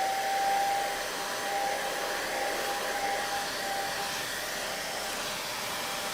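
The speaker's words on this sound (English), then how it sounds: "You gotta have a hair dryer." A hair dryer blows steadily and loudly at close range, drying wet paint on raw balsa wood, with an even whooshing hiss and a faint whine.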